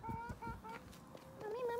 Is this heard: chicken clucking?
yes